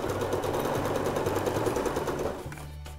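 Sewing machine running steadily while stitching fabric for a coin purse, a close, loud, fast mechanical whir with a dense rhythmic needle patter that slows and shifts pitch near the end.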